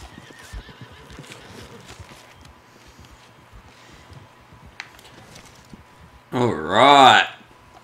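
Quiet footsteps and faint ambience, then a loud, close horse whinny rising and falling for about a second near the end, in the video game Red Dead Redemption 2.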